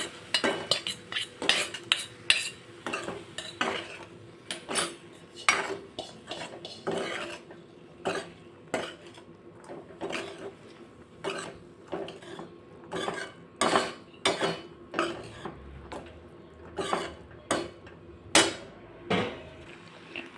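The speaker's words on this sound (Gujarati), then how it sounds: "હવે આપણે બાફેલા મઠ એડ કરી દેશું બધું જ આપણે મિક્સ કરી લેશું" Boiled moth beans stirred with spices in a pan, a spoon scraping and knocking the metal in a steady run of quick, close clinks and rasps that repeat for about twenty seconds, with no voices.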